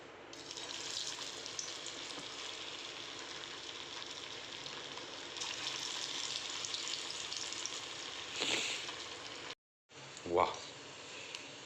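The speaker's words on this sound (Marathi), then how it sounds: "मस्त छानपैकी डीप फ्राय होत आहेत आपले पकोडा कॉर्न पकोडा" Corn pakoras deep-fry in hot oil in an old iron kadai on a gas stove, a steady close crackling hiss that briefly cuts out near the end before a short clatter.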